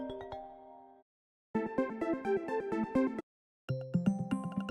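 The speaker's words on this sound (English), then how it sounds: "Now just choose the ringtone you prefer." iPhone ringtones play one after another, each a bright, cleanly pitched melodic pattern of quick repeated chime-like notes, separated by short silences.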